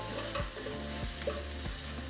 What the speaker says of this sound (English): we're going to add 3 minced garlic cloves. Saute for 30 seconds.